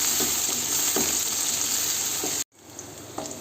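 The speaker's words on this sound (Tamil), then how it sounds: "இப்போ வெங்காயம் நல்லா வதங்கி வந்துருச்சு" Onions, chillies, curry leaves and garlic sizzle in hot oil for sambar, a steady close frying hiss with a few soft stirring knocks, briefly cutting off near the end before resuming quieter.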